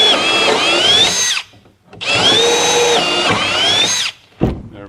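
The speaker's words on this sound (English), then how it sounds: "I'll drill the second." A power drill whirs loudly in two long bursts with a brief pause between, its pitch shifting slightly as it bites in, followed by a short clunk; drilling while building sideboards for a 1960 International Harvester B180 flatbed dump truck.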